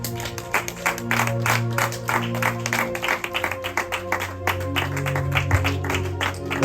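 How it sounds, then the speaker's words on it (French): A church congregation applauds together in steady, rhythmic clapping, mid-distance and sustained, with organ-like music droning underneath. "Est-ce que nous pouvons nous lever, s'il vous plaît, et applaudir le Seigneur?"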